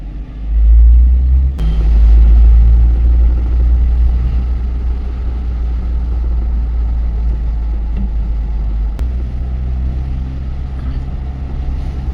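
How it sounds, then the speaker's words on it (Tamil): Traffic on a national highway, a loud, continuous low rumble of passing cars and trucks that swells and eases as vehicles go by, with no voices over it. "எல்லா ஸ்டேட் வண்டி ஓடுது பாருங்க"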